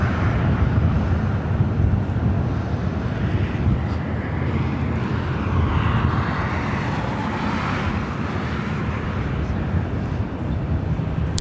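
A heavy airliner on landing approach to runway 24 right at Los Angeles International Airport makes a steady, loud, broad jet roar with gusting wind noise on the microphone, holding level throughout.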